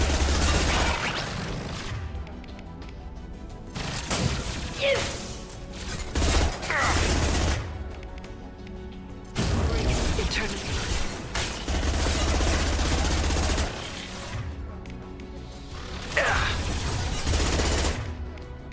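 Bursts of rapid gunfire from a weapon in the video game Mass Effect 2 come in several loud volleys separated by short pauses, mixed with game sound effects.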